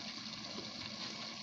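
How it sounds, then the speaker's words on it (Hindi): A cup of water is poured into a pot of potato curry (aloo sabzi) as it cooks, making a steady, continuous gushing splash that stays even throughout, with no voices. "1 कप पानी डालते हैं"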